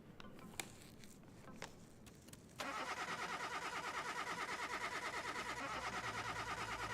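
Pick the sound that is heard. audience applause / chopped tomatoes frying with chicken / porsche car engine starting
porsche car engine starting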